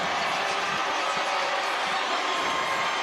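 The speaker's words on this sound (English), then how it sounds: "Might be the loudest this crowd's gotten this entire game." A basketball arena crowd at Bank OZK Arena during a 5A boys state final between Marion and Little Rock Parkview, a dense, steady roar of many voices rising as fans get to their feet, filling the space continuously.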